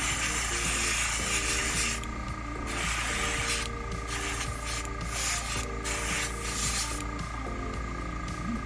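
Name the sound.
air compressor running for airbrush painting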